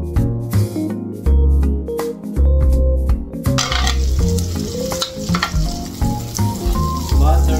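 Butter melting and sizzling in a frying pan before squid goes in, a steady hot crackle carrying throughout alongside stirring and clattering, fairly loud and close, with no talking.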